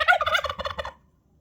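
A brown turkey hen gives a rapid run of gobbling, yelping notes up close, loud for under a second, then quiet.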